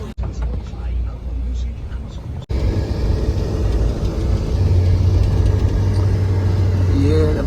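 A taxi car pulls away from an airport in New York City and drives steadily with a loud, continuous engine and road rumble from inside the cabin. People talk over the noise.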